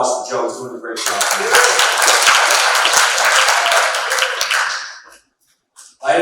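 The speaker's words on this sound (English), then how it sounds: "How about a round of applause for Joe?" Applause at a retirement dinner for Jimmy Bass, a loud, dense round of clapping from the gathered guests that swells for about four seconds and then cuts off into silence.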